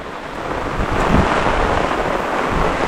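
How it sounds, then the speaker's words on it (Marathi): Heavy monsoon rain pouring down in a Kokan forest, a dense, loud and unbroken hiss of downpour close by, with gusts of wind rumbling against the microphone. "तर पाऊस काय मात्र थांबत नाही आज, जोरदार पाऊस एकदम."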